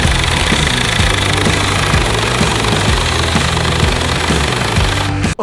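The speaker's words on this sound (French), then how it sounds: "test de la tronçonneuse." A cheap chainsaw bought from Wish cuts wood with a loud, close, continuous engine roar that holds steady throughout before cutting off abruptly at the very end.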